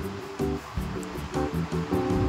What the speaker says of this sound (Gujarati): ગોમતી ઘાટે જોવો કરંટ, જોવો દરિયામાં ભાઈ